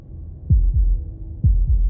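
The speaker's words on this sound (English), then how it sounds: "That was the sound of a heartbeat" Slow, deep heartbeat thumps from the Slay the Princess visual novel come in two double-beat pairs, each a heavy lub-dub pulse, loud and close against a quiet background.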